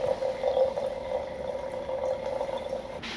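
Water draining quickly out of an empty NEXTLEVEL Pulsar flat-bottom no-bypass coffee brewer, a steady close trickling and splashing rush that holds evenly for a few seconds with no voices.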